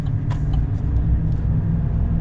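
A lifted Chevy Silverado 1500 RST pickup with a 5.3 engine cruises along, heard from inside as a steady low rumble with faint clicks and rattles in the cabin.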